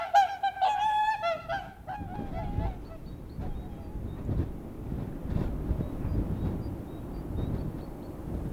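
Migrating geese honking over the Finnish archipelago in spring, a short burst of several distant calls followed by wind noise and faint rumble.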